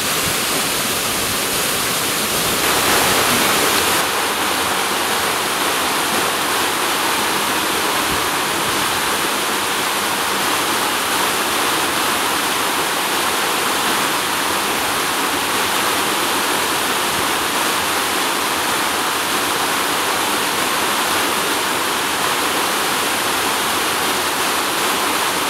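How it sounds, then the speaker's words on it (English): The waterfall cascades of Walton Brook roar in a loud, steady, dense rush of falling water that fills the whole stretch without a break. "Now this one is huge waterfall,"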